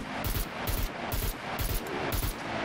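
Gunfire from the video game SCUM, a quick run of several rapid shots in a steady rhythm, sounding muffled and low in level under faint background noise.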